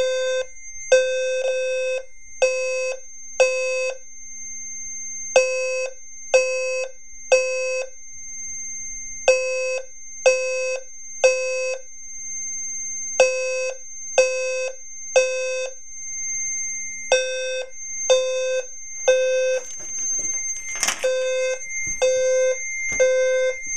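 Fire-Lite MS-5UD fire alarm panel sounding code 3 after a pull station is pulled: loud, clean electronic tones in repeated groups of three pulses with short gaps, and a brief rattling noise near the end.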